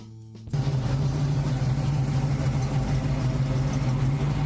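A 1967 Mercury Comet Cyclone muscle car engine kicks in after a brief quiet moment, then holds a steady, deep, rumbling idle close by with no voices.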